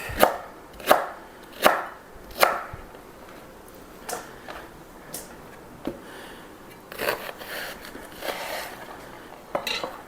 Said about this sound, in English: Slice them in chunks.